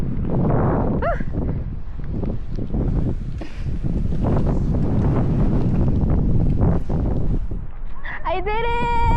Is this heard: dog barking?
no